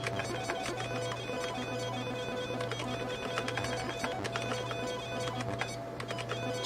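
Thin buzzing, chattering beeps from a 386 PC's internal speaker during a Space Invaders–style game, a steady ticking drone like a weak dot matrix printer that runs unbroken with no talk over it.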